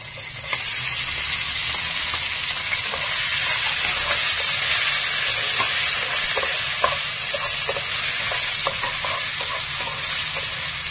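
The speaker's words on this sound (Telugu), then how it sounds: "ఇప్పుడు ఆనియన్స్ వేస్తున్నాను కొద్దిగా." Chopped onions and crushed garlic fry in hot oil in a pan for a stuffed bitter gourd curry, a loud steady sizzle with occasional stirring scrapes and crackles throughout.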